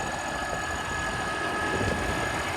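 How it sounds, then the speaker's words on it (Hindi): A New Holland 5620 CRDI tractor engine runs steadily while ploughing deep in a field, a continuous loud rumbling drone with a steady tonal hum and no break throughout. "बिल्कुल ट्रैक्टर जो है नॉर्मल चल रहा है।"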